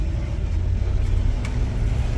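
A 1969 Chevy C50 fire truck rumbles along while driving, a steady low engine drone with road noise, fairly loud and continuous without speech.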